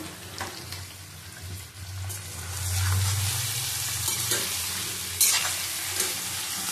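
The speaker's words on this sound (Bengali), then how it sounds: "নাড়িয়ে নেব।" Sweet, sour and spicy mango pickle pieces are stirred in a pan, a steady low sizzle under soft scraping strokes, with a sharp metallic clink partway through and a few lighter taps after it.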